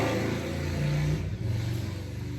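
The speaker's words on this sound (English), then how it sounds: "Loud motorcycle outside." A loud motorcycle passes outside, its engine droning steadily and rising in a brief rev before the pitch drops away, continuous throughout.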